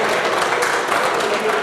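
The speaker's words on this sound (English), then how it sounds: "I'm not finished and you're clapping" Steady, fairly loud audience clapping fills a brief moment in the middle of a government address, with no gaps in the sound.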